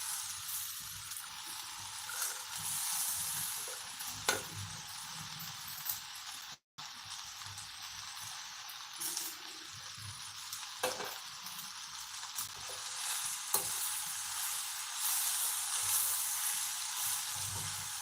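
Washed spinach sizzles in a hot pan, a steady bright hiss that runs throughout, broken by a brief dropout and a few faint clicks and stirring knocks.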